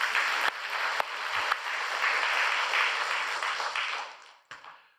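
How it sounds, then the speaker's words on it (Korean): A church congregation applauds after a sermon, with a dense, even clapping that holds steady for several seconds and then tails off into a few scattered claps. "우리 하나님께 박수로 영광 돌립니다"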